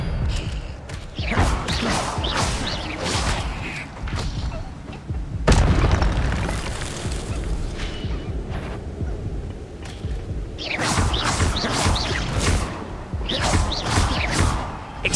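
Spell effects from Hogwarts Legacy gameplay on PS5: repeated booming blasts and whooshes of disarming spells being cast, loud and dense, with bursts around the middle and again near the end.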